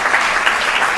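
A city council meeting audience breaks into loud, close applause, a brief, dense burst of many hands clapping without pause.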